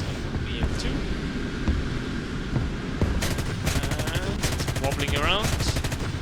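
Douglas F3D-1 Skyknight cannons firing in War Thunder, loud rapid bursts of heavy cannon fire over a constant roar of engine and wind, with several sustained volleys in the second half.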